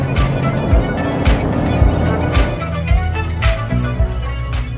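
Porsche 718 GT4 engine pulled up to 8,000 RPM on a highway on-ramp in Mexico, a loud sustained mechanical roar with a rising tone and brief shift dips, heard close from inside the car.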